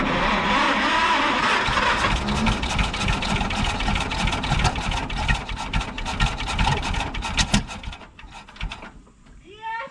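The old engine of a Mack B30 bus catches after carburetor trouble and settles into a rough, rumbling idle, loud and close, with voices around it before the running sound drops away near the end.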